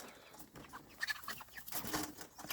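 Chickens in a chicken tractor cluck softly with scattered short calls and rustling, fairly faint and close, with no talking.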